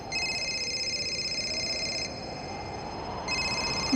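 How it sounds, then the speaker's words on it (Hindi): A telephone rings inside a house: a steady electronic ringtone sounds for about two seconds, stops briefly, then starts again, with constant low background hum underneath. "घंटी की आवाज तो अंदर से आ रही है।"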